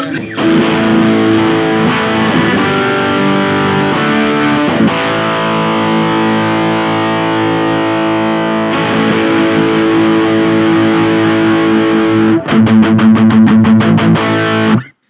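Electric guitar played through the distortion channel of a NUX Mighty Lite BT practice amp, loud sustained overdriven chords ringing continuously, ending in a burst of rapid strummed stabs.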